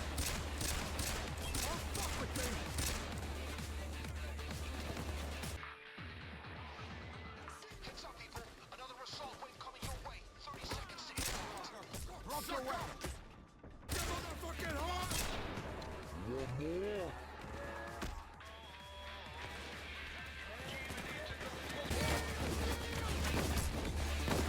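Gunfire crackles in PAYDAY 2, with sniper shots among repeated sharp bursts and fusillades during a heist, some loud near shots and others more distant, under occasional talk.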